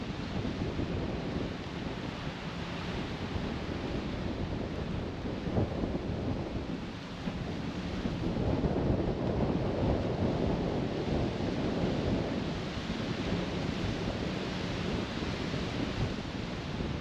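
Strong wind roars across the microphone on a golf course, a continuous heavy rumble that swells midway and holds loud throughout, with no talking.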